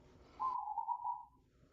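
An owl gives a single steady, whistle-like hoot lasting about a second, fairly close and clear against a quiet outdoor background.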